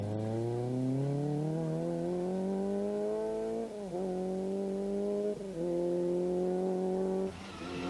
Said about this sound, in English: the Shell Nissan is still driving relatively normally